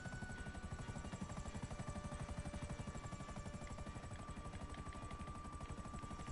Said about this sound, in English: I'll put the helicopter somewhere down here.